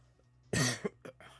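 A single close cough, followed by a couple of small throat-clearing sounds in an otherwise quiet room.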